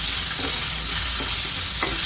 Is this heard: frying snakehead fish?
yes